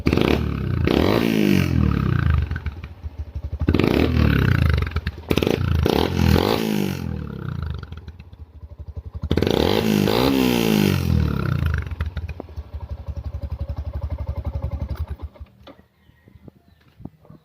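Yamaha Sniper 150 motorcycle fitted with a power pipe exhaust, revved hard in three loud, close bursts separated by brief drops to idle, with a rough idle tapering off at the end.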